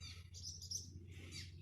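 Small birds near a nest on a bridge, a few faint high chirps and tweets in quick bursts over a low steady hum, no voices.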